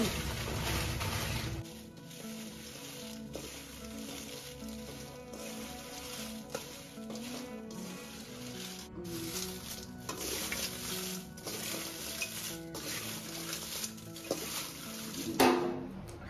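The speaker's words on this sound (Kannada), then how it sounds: "ಆ ಕಡೆ ಧನಿಯಾನ ಫ್ರೈ ಮಾಡ್ತಾ ಇದ್ದಾರೆ ಅಮ್ಮ" Sun-dried coriander seeds fry in a pan for sambar powder, giving a steady close sizzle and patter with intermittent stirring scrapes throughout, and no voices over it.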